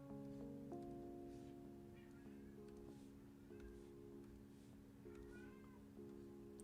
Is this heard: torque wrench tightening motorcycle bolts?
no